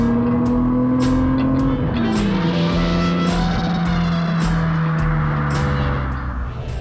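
BMW 635 CSi engine droning steadily while cruising at a constant 70 km/h, a loud continuous hum with a pitch that shifts down around two seconds in, filling the cabin from start to finish.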